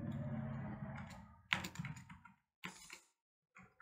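Keystrokes typing a new name on a computer keyboard while saving a gradient in Photoshop, a few quick bursts of close, soft clicking separated by brief silences, after a stretch of low room noise.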